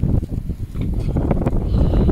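Strong wind buffets a small fishing boat out on the Thames estuary, roaring as a low, blustery rumble of microphone-battering gusts that never lets up.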